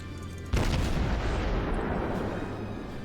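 A cruiser's naval guns fire in a World of Warships battle: a single heavy boom hits suddenly and then rolls out into a long, rumbling decay, with no talking.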